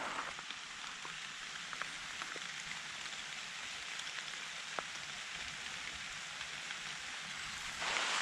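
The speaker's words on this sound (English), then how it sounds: "the rain got just a little bit heavier, so I pulled out the raincoat." Steady rain falling in a Swedish forest on a coastal hike near Ystad, a dense continuous patter of drops on leaves and a raincoat, growing slightly louder at the end, with no talking.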